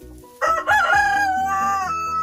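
A rooster crows loudly and close by inside a converted greenhouse used as a winter chicken shelter in Alaska, one long drawn-out cock-a-doodle-doo with no talk over it.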